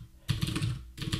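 Computer keyboard typing in two bursts of rapid, close keystrokes separated by a brief pause, recorded while editing HTML table markup in the Brackets code editor.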